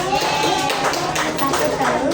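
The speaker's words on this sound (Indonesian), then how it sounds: "tepuk tangan untuk kelompok 9" Fourth-grade pupils in a primary school classroom in Karawang, Indonesia, applaud a group with steady, dense clapping, mixed with children's voices throughout.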